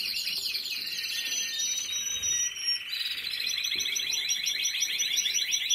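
Four nestling birds chirping in a nest, a continuous shrill chorus of rapid, insistent begging calls heard up close, rising and falling in bursts with occasional soft handling noise beneath.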